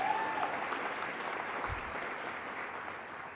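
Audience applause at a panel event in Ohio, steady moderate clapping from a crowd that holds evenly before easing slightly toward the end.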